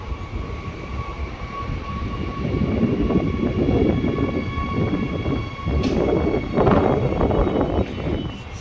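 A train rumbles through East Perth station on the Ellenbrook line, a steady loud rolling roar with swelling clatter of wheels on rails, heard alone without talk.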